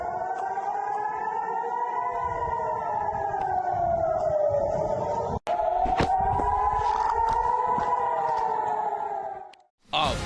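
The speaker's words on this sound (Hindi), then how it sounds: "ईरानी हमलों के बाद शहर में सायरन बज रहे हैं।" Air raid sirens wail across an Israeli city after Iranian attacks, one long rising and falling tone sounding from a distance over faint background noise with brief interruptions.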